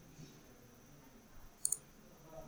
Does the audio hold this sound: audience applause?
no